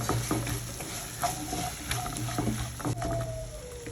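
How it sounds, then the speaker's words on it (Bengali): Eggplant frying in hot oil with turmeric, chili powder and salt, a steady close sizzle with some stirring scrapes and a faint low hum running underneath, no voices. "বেগুন দিয়ে দিয়েছি ভাজতে দিয়ে দিয়েছি হলুদ লঙ্কার গুঁড়ো লবণ"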